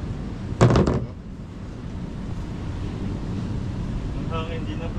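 Wind rushes and buffets against the microphone in a constant low roar, after a brief sharp knock near the start and a faint tone near the end.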